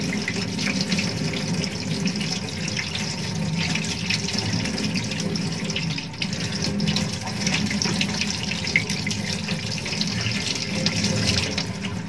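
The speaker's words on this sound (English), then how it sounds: "Wet hands and forearms thoroughly, holding them under running water, letting it run from the fingertips to the elbow" Steady tap water running over hands and forearms during handwashing before a sterile procedure, a continuous close splashing stream at even volume throughout.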